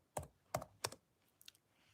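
Three crisp computer keyboard keystrokes come in a quick uneven burst, followed by a couple of fainter, lighter taps, close by in a quiet room with no talking.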